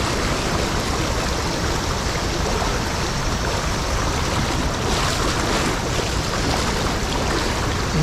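Swollen mountain stream surging after a sudden rise in water, a loud, steady roar of rushing water filling the whole scene without pause, close by and alone with no talk.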